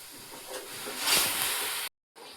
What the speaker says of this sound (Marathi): मॅगीचं पाणी उकळलेलं आहे